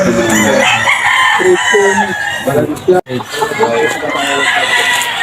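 A Garigillian Roundhead gamefowl rooster, island-born, crows loudly and close, with other fowl clucking and crowing around it in a game farm yard.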